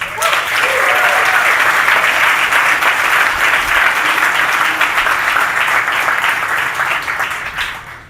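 Loud, sustained applause from a large crowd, steady for several seconds before tapering off at the end.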